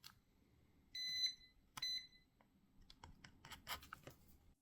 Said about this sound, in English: it's beeping there, so we have a bad M92 chip